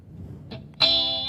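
Electric guitar played through a REVV G20 amp on its direct signal with a 2x12 cab simulation: a few muted picks, then one loud, sustained distorted chord ringing out alone.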